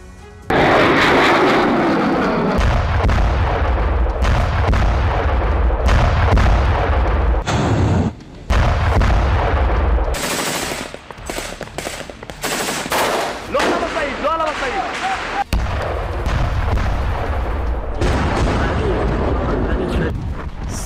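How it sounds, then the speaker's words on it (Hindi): Heavy bombardment in Gaza, with loud, close bursts of explosions and rapid gunfire coming in dense clusters, broken by short pauses, alongside deep booms and voices talking over parts of it. "सात दिन की शांति, फिर धुआंधार बमबारी।"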